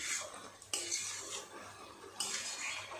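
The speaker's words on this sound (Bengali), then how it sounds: "এবার ভালো করে নেড়ে চেড়ে দেবো। এইভাবে নেড়ে চেড়ে ভালো করে শুকনো করে নিলেই হয়ে যাবে।" A fish-head and cabbage curry is stirred in a pan as it dries down, soft scraping and a couple of sharp utensil knocks against the metal over a quiet, low sizzle, with no voices.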